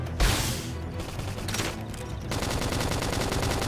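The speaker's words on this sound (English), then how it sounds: "Gun him down." Continuous automatic gunfire in a Xenoblade Chronicles X battle, loud dense bursts that rattle steadily for several seconds with brief shifts in intensity and no speech.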